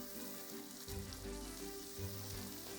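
Steak searing in a hot pan with butter while being grilled in a cooking contest: a steady, close sizzle and frying crackle runs throughout, with low background noise and no clear talk.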